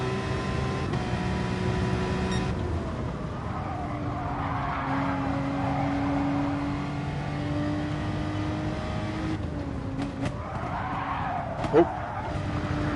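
A car in a racing sim at Brands Hatch GP drones along at steady revs, then its tires squeal and scrub through a spin, the engine note rising and falling with brief sharp bumps near the end.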